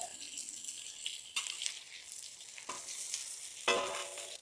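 Fish in green masala frying on a tava, a steady soft sizzle with crackly spikes and occasional louder pops and stirring scrapes, fairly close and alone.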